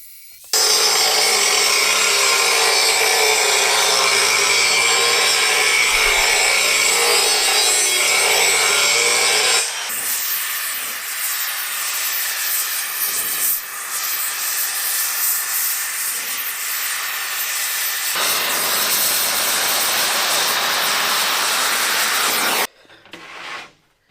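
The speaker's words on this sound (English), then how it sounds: "I quickly realized I needed to transition to a thicker grinding wheel, which would allow me to bevel the edge of the groove." An angle grinder with a thicker grinding wheel scoring a groove in 1/4-inch steel plate, a loud steady hissing whine lasting over twenty seconds whose tone shifts partway through, then cutting off abruptly.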